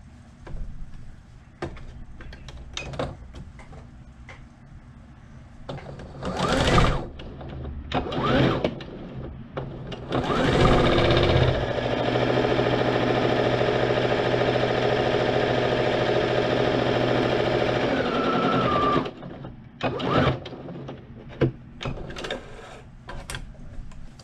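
A sewing machine stitches along the long edge of fabric folded wrong side out for a kid's scrunchie. It makes a steady whirring run of about eight seconds, with scattered handling knocks before and after.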